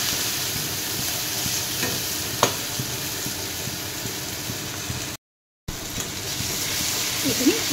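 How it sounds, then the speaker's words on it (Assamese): Ground ginger and garlic paste fries in hot oil with a dense, continuous sizzle, stirred with a spoon, the steady hiss broken only by a brief gap and a few soft scraping touches. "পিচি থোৱা আদা নহৰু চামুচ দি দিছোঁ এইখিনিও এনেদৰে লৰাই দি দিছোঁ"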